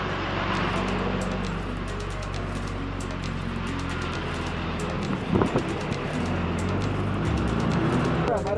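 A local bus grinds along a narrow mountain road from Uttarkashi to Gangotri, its steady engine rumble blending with road and wind noise, with a brief knock partway through.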